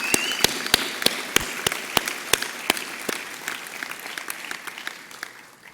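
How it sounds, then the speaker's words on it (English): Sparse, thinning applause at a university graduation ceremony, with individual claps standing out sharply as the clapping slowly fades over several seconds. "So I think all of your supporters deserve a round of applause too."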